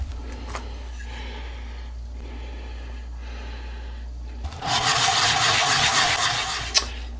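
Someone sands the metal of a Mossberg 500 shotgun. Low handling noise comes first, then an abrupt, loud, steady scraping rasp starts partway through and continues to the end.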